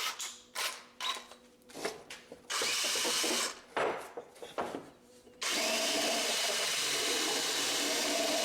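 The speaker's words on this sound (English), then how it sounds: "The easiest thing I found to do is get a little deburring tool." Deburring tool turned by hand in the freshly cut vent holes of a Polaris Ranger cab heater, giving close, intermittent scraping and grinding bursts that become a steady loud rasp in the final seconds.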